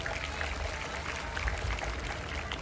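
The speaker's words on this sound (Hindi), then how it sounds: "आप तालियां बजाकर उनका स्वागत करिए।" A large crowd at the Chhattisgarhi Khasdar Mahotsav cultural festival in Nagpur claps steadily to welcome the event's organiser, a dense, even wash of applause heard from within the audience.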